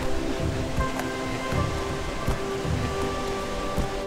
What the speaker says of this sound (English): the waves have just been lapping against that rock